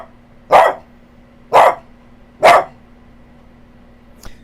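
A dog gives three loud, evenly spaced barks close by, followed by a faint short click, over a low steady hum.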